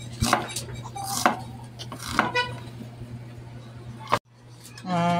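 Sharp knife strokes chop through onion on a board, several distinct hits spaced about a second apart over a steady hum, then a brief pause and a clatter of utensils at the end.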